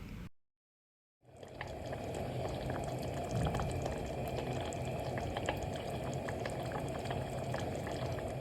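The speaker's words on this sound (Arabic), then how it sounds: "انا الاول بعلي عليه اول ما يغلي، وبعدين بهدي النار لحد ما يتشرب الميه" Rice and water boiling in a pot on the stove, a steady dense bubbling hiss with small pops, close and continuous after a brief silent gap at the start.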